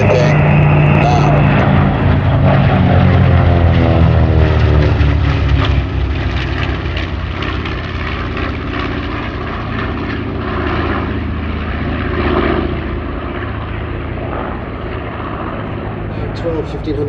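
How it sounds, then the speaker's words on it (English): A B-25 propeller bomber lifts off at an airshow, its piston engines a loud, sustained, rough drone that holds steady throughout, with a commentator's voice running over the roar. "B-25, lifting now."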